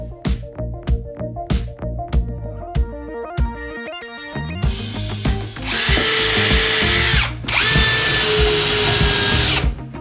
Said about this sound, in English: Using your drill and your drill bits, we're going to make some holes ready for our threaded rod